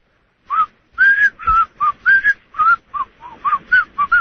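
Someone calling into a radio show whistles a quick tune, a string of about a dozen short, clear, close whistled notes with brief gaps between them, heard alone without talk.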